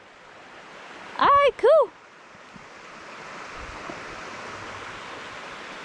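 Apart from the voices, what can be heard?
running water of a creek on a nature trail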